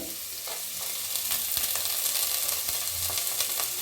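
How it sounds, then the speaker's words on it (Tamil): Onions and sprouted green gram fry in a pan for a Tamil broccoli poriyal, with a continuous close sizzle and occasional clacks of a spatula stirring. "இந்த வெங்காயத்து கூடவே இதெல்லாம் நல்லா க்ளீனாக ஃப்ரை பண்ணிடலாங்க."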